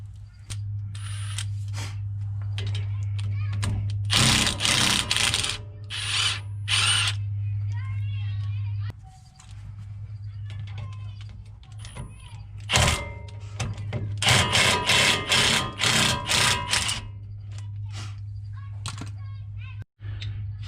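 Hand ratchet loosening a 1/2 inch brake caliper bracket bolt on a 2014 Ford F-150 FX4 truck front brake, with bursts of rapid clicking from the pawl over a steady low hum, close and fairly loud.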